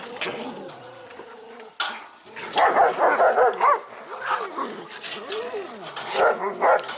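Dogs bark at night in repeated bursts alongside bird and dove-like cooing, moderately loud and fairly close, with someone talking over parts of it.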